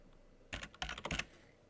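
Quick bursts of keystrokes on a computer keyboard, a short run of close, crisp clicks clustered in two brief groups as a username and password are typed.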